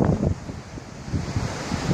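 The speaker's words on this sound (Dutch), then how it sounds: "Genieten van de wind." Seaside wind gusting against the microphone, with a steady broadband rush of surf beneath and low rumbling buffets that swell and fade throughout, close and fairly loud with no voices.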